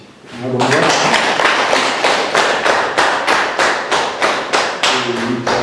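A crowd claps for children in rhythmic unison, loud and close, the beat steady after a voice briefly speaks at the start and end.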